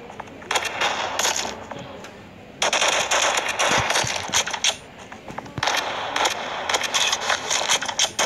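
Saiga shotgun fire in the mobile shooter game Kuboom: bursts of sharp, rapid metallic shots in clusters separated by short pauses, loud and close, with no talk.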